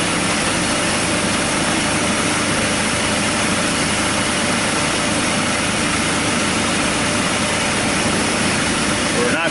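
Car engine idling steadily with the air-conditioning compressor engaged during an A/C leak check, a loud, constant close-up rumble and hum lasting throughout with no break.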